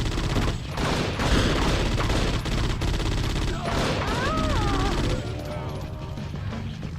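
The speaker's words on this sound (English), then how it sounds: "It's what's it called? The spit gun." Rapid bursts of weapon fire from the spit gun in the PS2 shooter Judge Dredd: Dredd vs Death, dense and loud throughout, mixed with mechanical clatter and game sound effects.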